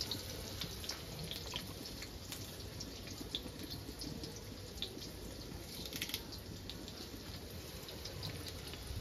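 Curry leaves washed under a running kitchen tap, a faint, steady stream of splashing water with small irregular drips and splashes, continuous and alone.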